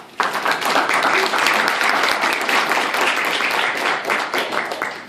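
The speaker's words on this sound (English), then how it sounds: "let's give Barbara a round of applause" An audience at a League of Women Voters aldermanic ward forum in St. Charles breaks into loud, full applause for moderator Barbara Kane. The clapping starts abruptly and holds as a thick, steady roar of hands before easing slightly near the end.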